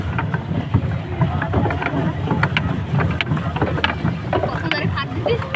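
Motor boat droning steadily on water during a pleasure trip, with constant low rumble and wind buffeting, while people talk over it.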